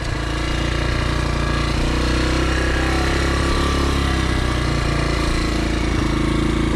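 A dirt bike engine drones steadily and loudly while a learner rides, a constant close buzzing roar with no breaks.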